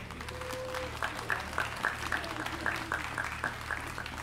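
Audience at a song festival applauding in a hall, steady dense clapping throughout, with a tonal sound and rhythmic pings riding over it.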